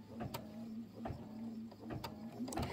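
Faint, close mechanical whirring and ticking from an embroidery machine stitching a quilt block, with small rhythmic clicks repeating every half second or so.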